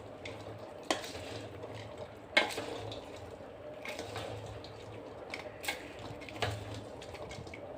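Chickpea sundal is mixed with onion, coriander and grated coconut in a vessel, making soft stirring and scraping sounds punctuated by several louder utensil knocks, with a faint background sizzle and no speech.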